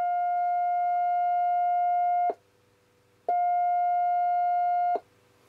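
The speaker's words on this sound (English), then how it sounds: "I plugged the CW key into it. And we'll put a little on CW." A steady CW Morse tone from a Yaesu FT-77 transceiver keyed by hand, sounding as two long, loud, even beeps separated by a short silent gap, with no voices.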